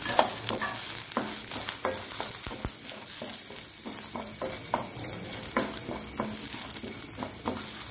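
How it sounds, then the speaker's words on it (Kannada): Coriander, cumin, fenugreek, mustard and ajwain seeds roasting in a pan for a Mangalorean raw mango and dried mackerel saaru, with steady close sizzling and frequent scraping stirs throughout, no voices. "ಒಂದು ಒಳ್ಳೆ ಘಮ ಬರುವವರೆಗೆ ಹುರಿಕೊಳ್ಳೋಣ."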